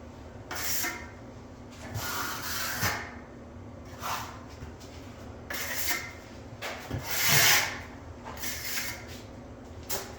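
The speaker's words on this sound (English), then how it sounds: "Now I'm just going to go lightly with the trowel, just so I don't see any tape through the mud" Steel trowel dragged lightly over drywall joint compound covering tape, feathering the edges: repeated soft scraping strokes in irregular bursts, close and moderately loud, with no talk.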